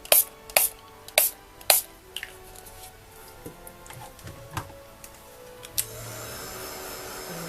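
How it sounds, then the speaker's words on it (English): Heat tool drying sprayed glimmer mist ink, a low steady blowing hum that swells louder near the end, preceded by a series of sharp spray bursts and small clicks. "And we dry it again."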